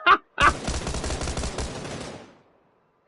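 Gunfire in the video game PUBG: a short sharp shot, then a rapid burst of automatic fire lasting nearly two seconds that trails off into silence, loud and close.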